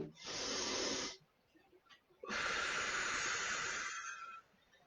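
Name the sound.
breathing in and exhaling during exercise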